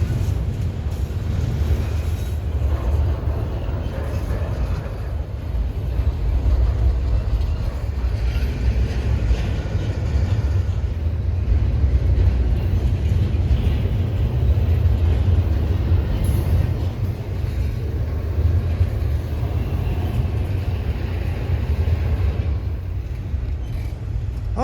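Long Norfolk Southern freight train hauled by a single SD70ACE locomotive rolling past on the Chicago Line near Otis Hill, Indiana, a steady loud low rumble of wheels and cars that holds throughout with no break.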